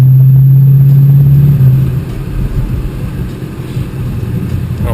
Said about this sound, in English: There's a downshift there.